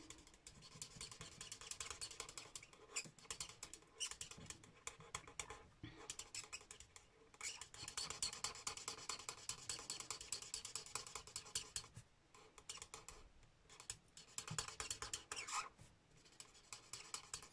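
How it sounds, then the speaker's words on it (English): Continuous scratchy rubbing and scraping of a worn-out alcohol blending marker colouring a stamped peony on card, steady strokes with brief pauses, close and fairly quiet with no talking. "My pen's a bit scratchy because, believe it or not, I'm getting to the end of it."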